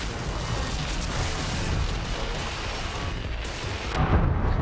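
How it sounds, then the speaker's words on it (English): An explosion in the shooter game Wolfenstein: The New Colossus, a loud, dense rumbling blast that fills the whole clip with heavy low-end boom and a fresh burst near the end, with no talking over it. "One explosion killed me."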